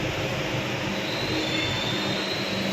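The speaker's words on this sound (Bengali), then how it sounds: "ট্রেন এখন থেমেছে কেরল স্টেশন।" Vista Dome tourist special train 15777 pulling into a small Dooars station among tea gardens, heard from on board: a steady, close rumble of rolling wagons with sustained wheel squeal as it slows, no voices.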